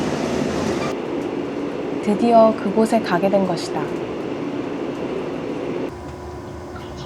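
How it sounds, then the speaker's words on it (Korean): A Mugunghwa passenger train bound for Mindungsan rumbles along with a steady low rolling drone and faint rhythmic clatter, while a voice speaks briefly over the running noise midway. "민둥산으로 향하는 기차는 여러 곳에 정차하는 무궁화호 열차였다."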